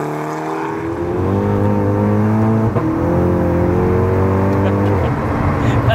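A Stage 3 MK6 Golf GTI accelerates hard from inside the car, its engine note rising in pitch and dropping at each gear shift, loud and continuous.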